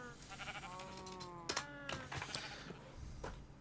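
Sheep in Minecraft bleating several times, wavering calls overlapping one another at moderate volume against quiet game ambience.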